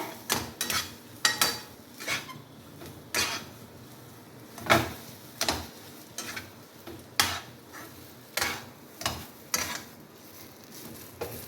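Mashed potato being stirred in a pan, with a spoon scraping and knocking against the metal in an uneven rhythm of soft thuds and clinks, close and fairly quiet.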